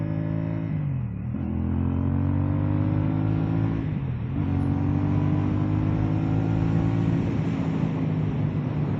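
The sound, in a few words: CFMOTO 450SS motorcycle riding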